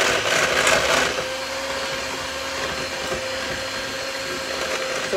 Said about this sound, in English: I'm going to take my hand mixer